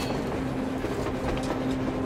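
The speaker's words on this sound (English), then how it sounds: "A train! A damn train on the surface!" A train rumbles across the surface in the video game Metro Exodus, a continuous, dense rolling noise with a low steady hum and no distinct breaks, heard alone.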